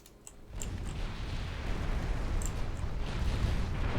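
Dreadnought-era warships in a naval battle video game fire their guns at battle cruisers: a short pop, then a loud, sustained, rumbling roar of gunfire and blasts that builds and holds, with no talking.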